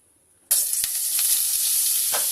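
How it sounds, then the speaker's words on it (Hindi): Butter and oil hitting a hot kadai on the stove, bursting into loud sizzling after a quiet moment and holding a steady bright crackle throughout. "और जो हमने बटर लिया है 2 टेबल स्पून, वो पूरा डाल देंगे।"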